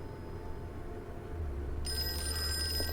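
A telephone in the game Call of Cthulhu starts ringing partway through, a bright electronic trill rising over a low ambient hum, fairly clear and near.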